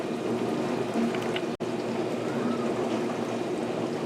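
Three cups of water pour into a pot for potato soup, giving a steady liquid splash and trickle throughout, broken by a brief drop-out partway through.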